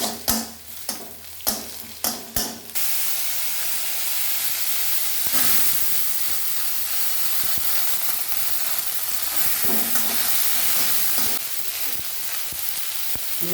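Garlic and dried red chillies fry in a pan for saag: a few quick scrapes and taps of a spoon, then a steady, close, hissing sizzle that continues without a break.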